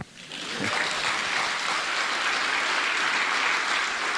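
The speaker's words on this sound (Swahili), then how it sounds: "Nipigieni makofi." An audience at a school event breaks into loud, sustained applause that swells within the first half second and holds steady as a dense clapping roar.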